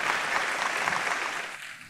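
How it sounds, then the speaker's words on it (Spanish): Audience applause at a Puerto Rican television awards ceremony (Premios Videocontrol 2015), loud dense clapping filling the room steadily, then thinning slightly toward the end. "Fuerte el aplauso, damas y caballeros"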